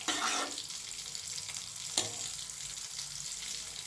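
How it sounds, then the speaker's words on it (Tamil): Lentil rice is stirred in a pressure cooker pot with a spoon scraping down to the bottom, giving a steady close scrape and soft sizzle with a sharper knock near the middle, and no talking. "அடிமட்ட முடிக்கு நல்லா கிண்டி விட்டுறலாம்"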